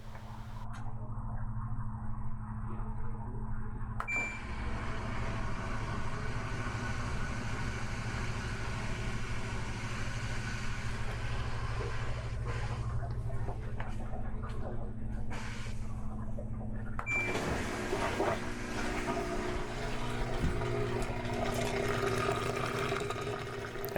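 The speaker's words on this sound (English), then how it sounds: "As you can hear, it's draining strong." The drain pump on an LG Kenmore front-load washer hums steadily as it empties water, a low continuous drone with a gurgling change partway through, recorded close.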